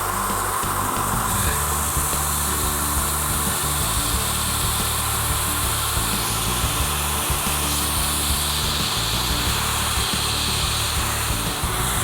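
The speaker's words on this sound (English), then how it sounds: "Turn on my dust collection." A dust collection system running in a woodworking shop, a steady loud broadband roar with a low hum that holds unchanged throughout, close and continuous.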